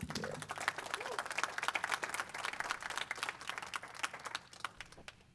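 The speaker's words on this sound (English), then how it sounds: "Round of applause, everyone." Audience applause fills a pitch competition hall after a presentation, dense steady clapping from a crowd that tapers off near the end.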